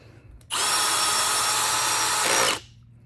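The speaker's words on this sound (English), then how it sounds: "I'm using a clutched drill at the 3rd setting." A clutched power drill on its third setting drives screws into a Bolens riding mower transmission, with one loud whirring burst of about two seconds that starts and stops abruptly against a quiet background.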